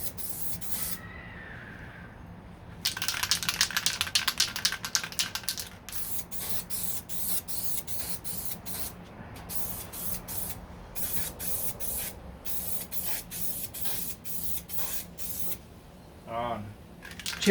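Aerosol primer sprayed onto a 1969 Corvette C-3 door, heard as a run of dense hissing bursts in quick succession, some long and some short, with brief pauses between and a faint click near the end.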